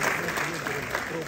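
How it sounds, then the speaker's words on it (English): Brief applause for a professor at a university graduation ceremony, a soft wash of distant clapping from a large crowd with a low thump at the very end. "So let us clap for the professor."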